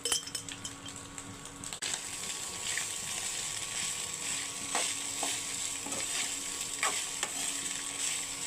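Boiled rice fries in oil tempered with cumin and curry leaves for jeera rice, a steady close sizzle broken by repeated scraping stirs and light clinks of a utensil on the pan, with no talking.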